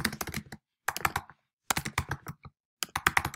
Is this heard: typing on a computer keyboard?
yes